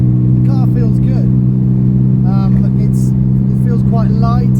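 A 1958 Aston Martin DB Mark III cruises in third gear at about 40 mph, its engine a steady, loud low drone that runs throughout while someone talks over it.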